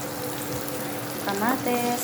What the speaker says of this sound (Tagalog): Pwede na natin ilagay ang kamatis.